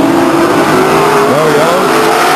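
Race cars at Stockton 99 Speedway roar around the oval in a loud, continuous engine wail that rises and shifts pitch as the cars accelerate, with an announcer's voice over the top.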